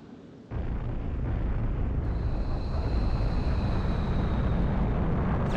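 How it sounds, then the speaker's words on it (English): A missile blast in Ace Combat 04: Shattered Skies rises abruptly into a long, steady roaring rumble that holds loud and even, with a faint high engine whine drifting above and a sharp burst at the very end. "That's a missile."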